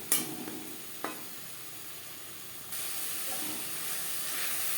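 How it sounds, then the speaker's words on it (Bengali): Chicken is stirred with spices in a hot pan, a soft steady sizzle and hiss with a couple of sharp utensil knocks early on, the frying growing slightly louder partway through; no voices. "মশলার সাথে চিকেন বেশ ভালো করে মিক্সড করে দেবো।"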